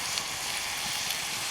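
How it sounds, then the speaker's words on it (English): Pork fried rice with onions and carrots sizzles in a metal canteen cup over an outdoor fire, a steady hissing crackle, close and continuous, with no voices. "You can hear that sizzling already."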